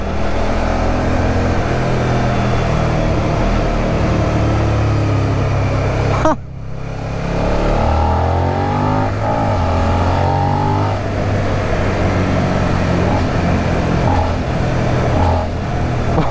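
Motorcycle engine riding through the streets of Cologne, a steady close droning rumble with rising and falling revs, briefly dropping out for a moment midway before carrying on continuously.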